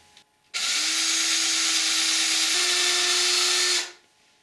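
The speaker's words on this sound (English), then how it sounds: "So now I can drill the holes and be fairly confident that I'm going to be able to get the screws in" A power drill bores screw holes in wood for a guitar build: one continuous high-pitched whir lasting about three seconds with a slight pitch rise midway, close and loud, starting and stopping abruptly in a quiet room.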